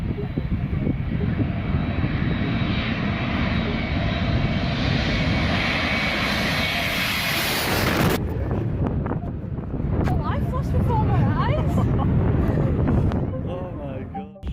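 Jet airliner roaring low over the beach on approach to Skiathos Airport, a loud rising engine whine for about eight seconds, then gusty jet blast and wind buffeting with people talking underneath.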